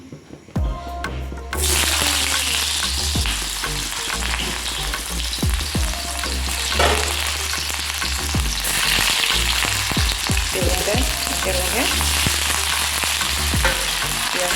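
Onion and green chilies hit hot oil in a wok and burst into a loud, steady sizzle that carries on without a break, with scraping and stirring clatter on top and no voices.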